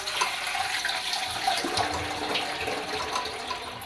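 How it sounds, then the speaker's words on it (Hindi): Water poured into a cooking pot on a stove while boiling mutton with drumstick pods, a steady close splashing rush that lasts throughout. "अब पानी ऐड करेंगे।"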